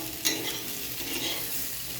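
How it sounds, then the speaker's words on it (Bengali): Spice paste of onion, garlic, green chili, cumin powder and coriander powder frying and being stirred in a pan, a steady close sizzle with a sharp scrape of the utensil near the start. "মশলাটা কষিয়ে নিচ্ছি"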